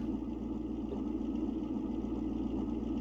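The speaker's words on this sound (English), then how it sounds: "Both these cars sound good." A steady low car engine rumble idles continuously in the video game Car Mechanic Simulator 2021, even and unchanging, with a faint hum layered over it and no voices.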